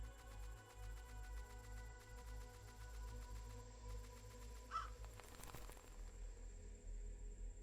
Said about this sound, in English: Was that a crow? Seems like it.